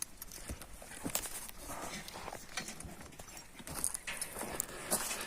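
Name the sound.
horse walking, hooves clip-clopping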